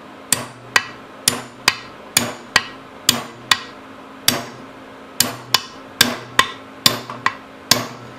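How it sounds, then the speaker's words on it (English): Sharp metallic brass hammer taps on a Briggs NR6 engine part ring out one after another, about sixteen strikes in a steady, slightly uneven rhythm, each with a short bright decay. "got a little brass hammer here to kind of send it on its way here"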